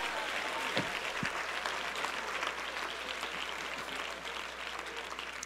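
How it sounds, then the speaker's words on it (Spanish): A congregation claps steadily through a church service, a dense, continuous wash of applause that holds at an even level from start to finish. "Dele mejor ese aplauso."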